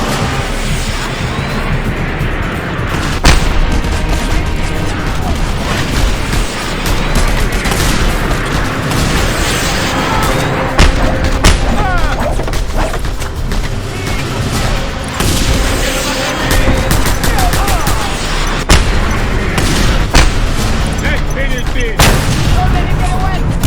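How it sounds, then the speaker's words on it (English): Missiles explode amid gunfire in Just Cause 2, loud booms and sharp cracks erupting repeatedly over a roaring, chaotic din, with a voice speaking intermittently throughout. "Where are these missiles coming from?"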